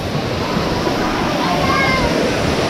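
A waterfall at Badiang Spring Resort rushes in a dense, steady roar, loud and close, with no clear pauses.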